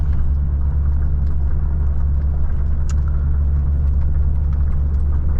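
A Volvo FH 540 truck drives steadily in 8th gear at about 40 km/h on half throttle in automatic. Its engine gives a loud, constant low rumble from the cab on the Lena highway toward Yakutsk.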